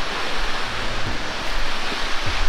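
Water plunging about 90 feet at Tiger Point waterfall in Mainpat, Chhattisgarh, a loud, continuous broadband rush heard close up with no voices.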